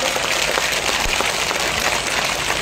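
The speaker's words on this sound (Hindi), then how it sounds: "जोरदार तालियों से अभिवादन करें।" A crowd claps loudly and continuously at an evening village gathering in Chibi gram panchayat, Baytu, a dense, steady wash of applause with no pauses.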